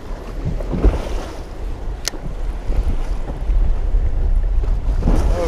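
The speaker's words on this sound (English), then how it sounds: "we're back in the big waves now." A fishing boat pounds through big waves, with a loud, rumbling, choppy wash, gusty wind buffeting the microphone and splashing that grows heavier toward the end.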